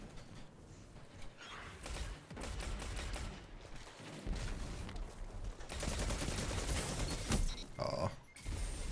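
Rapid automatic fire from an auto rifle in a first-person shooter game, with dense bursts of rattling shots running through most of the stretch alongside mechanical clicks and impacts, loud and busy without a break.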